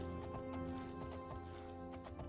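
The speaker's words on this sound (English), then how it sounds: "Thought we'd take a ride on our new horse" Horse hooves clip-clop at a steady, even trot while riding in Oblivion on Xbox 360. The beats are fairly faint and sit over a continuous humming backdrop.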